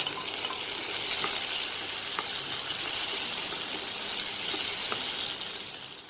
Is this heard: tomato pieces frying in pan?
yes